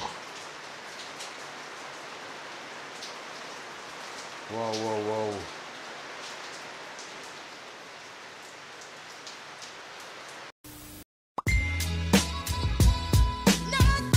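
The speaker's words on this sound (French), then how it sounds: "il y a une tempête là" Steady heavy rain hisses throughout, with a short low burst midway, before a person exclaims loudly amid sudden clattering noises at the end.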